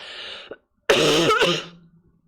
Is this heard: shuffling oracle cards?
no